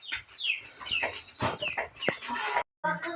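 Chickens cluck close by in a busy string of short, choppy calls and squawks, fairly loud, then stop abruptly before a brief final cluck.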